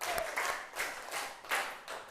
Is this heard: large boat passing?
no